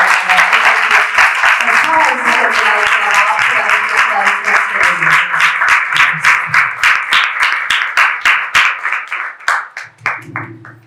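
A church congregation at a Sunday service breaks into loud, dense applause while voices carry on over it. The clapping grows more spaced and uneven, then dies away near the end as a voice comes back in.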